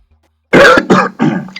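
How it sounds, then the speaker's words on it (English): A man clears his throat in three short, rough, close bursts, the first the longest, each separated by a brief pause, with no speech around them. "sorry, I had to clear my throat there."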